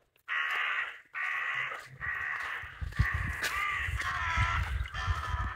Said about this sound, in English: do you hear the birds over here? You hear these birds?